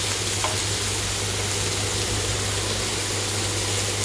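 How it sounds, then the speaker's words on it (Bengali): Fish fries in hot oil in a kadai, a steady soft sizzle over a constant low hum, fairly quiet and unbroken, with no voices. "মাছটা আমি সবার প্রথমে ভাজা করে নিচ্ছি"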